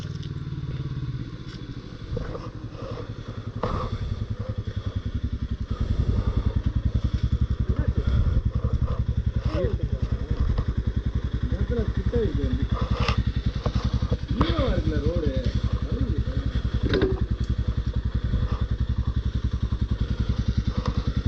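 A motorcycle fitted with a barrel exhaust runs steadily on a trip into hill country, a loud, continuous throaty engine drone that swells partway through, with people talking over it.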